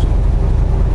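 Steady low drone of a truck driving down the road, heard from inside the cab, with even engine and road rumble running loud and unbroken throughout.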